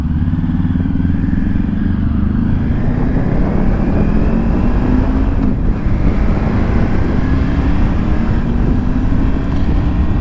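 A Triumph Tiger 900 GT motorcycle engine hums steadily and loudly while riding, with rising tones as the throttle is rolled on smoothly, plus constant wind rush throughout.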